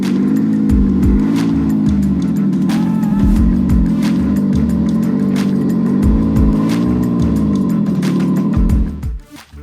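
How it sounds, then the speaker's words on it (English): A car fitted with an iXsound active sound exhaust system starts and settles into a loud, steady engine drone, with a pulsing low rumble and occasional rev swells that cut off abruptly near the end. "Now I will take the control unit and we will start the car."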